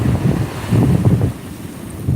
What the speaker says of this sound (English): These waves aren't that big.